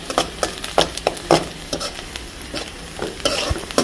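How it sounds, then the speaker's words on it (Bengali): Onions frying in a pan on a high flame while being stirred with a spatula, giving a continuous sizzle punctuated by repeated sharp scraping strokes, close and fairly loud. "পেঁয়াজটা ভালোভাবে লাল করে নেব"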